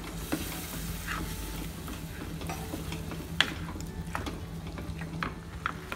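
Tiffin sambar simmering in a pot on the stove, a soft steady bubbling and sizzling hiss with scattered small pops and clicks, close and moderately quiet, no voices.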